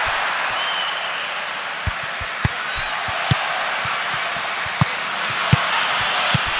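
A stadium crowd in the football game PES 20 gives off a constant, dense roar of applause and cheering, with occasional sharp claps and thuds poking through.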